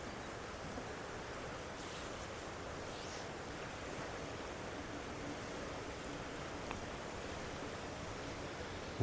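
A river flows beside a footpath at a caravan and motorhome club site in Kendal, giving a steady, broad rushing wash with gentle wind noise and no talk.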